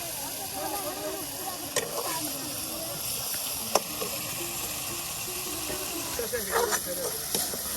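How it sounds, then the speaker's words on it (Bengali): Pigeon meat sautéing with spices in a pan gives a steady, close sizzle and hiss with a few sharper stirring knocks, while a voice talks quietly under it. "সমস্ত মশলা দিয়া এখানে এখন মাংসটা সুন্দর করে আপনার এই যে মশলার সাথে কষানো হচ্ছে"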